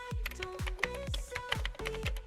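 Close computer keyboard typing comes in quick, evenly spaced clusters of clicky keystrokes as code is entered, with no talking.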